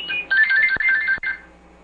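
A mobile phone ringtone sounds during an interview, a loud electronic melodic pattern of bright repeated notes that plays for under two seconds and then cuts off, with no talk over it.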